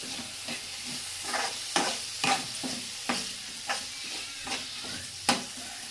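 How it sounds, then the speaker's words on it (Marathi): Chopped tomato and okra are stir-fried in a pan for a dry masala bhindi, with a continuous sizzle broken by repeated close scrapes and clacks of a spatula at an uneven rhythm. "जो आपण टोमॅटो चॉप करून ठेवला आहे आता आपण तोही टाकूया। एकत्र मिक्स करून परतून घेऊया।"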